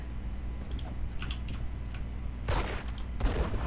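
Gunfire in the Roblox game Arsenal, a couple of bright bursts of shots near the end, preceded by quiet keyboard clicks and game ambience.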